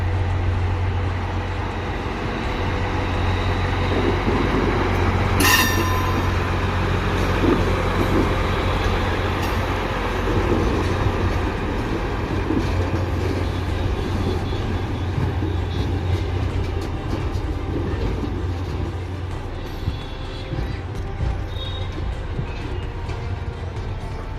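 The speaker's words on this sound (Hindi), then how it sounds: "ये टैंपिंग मशीन जा रही है देवबंद रूट की नई लाइन पर अंतिम बार उसको फाइनल शेप देने के लिए" Railway track tamping machine travelling along the new Deoband–Roorkee line, a steady low rumble with rail clatter and a brief sharp metallic transient early on, moderately distant and continuous.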